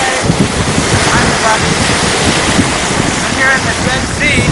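Dead Sea surf breaking close by under heavy wind rushing against the microphone, a constant loud roar with a voice speaking briefly over it.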